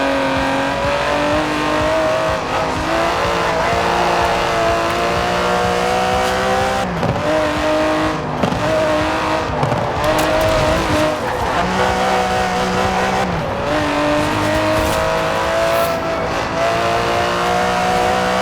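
An Aston Martin DB11's 5.2-litre twin-turbo V12 races in Forza Horizon 4, roaring loudly as it revs up and down through repeated gear changes, with bursts of tire squeal between the surges.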